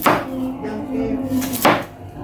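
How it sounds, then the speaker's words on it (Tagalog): White onion being sliced with a knife on a board, a couple of firm close chops standing out over a low background hum, no voices. "Slice mo natin kaili yung sibuyas, white onion."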